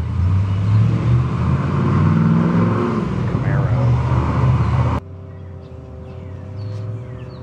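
A Chevrolet Camaro engine revs with a loud, low, droning tone that rises and falls for about five seconds, then cuts off sharply to quieter background hum, with voices in the mix.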